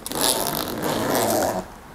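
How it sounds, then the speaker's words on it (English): Double zipper pull being drawn along a compartment of a Northseeker 20L backpack, a close, steady zipping rasp lasting about a second and a half before it stops. "double zipper pull"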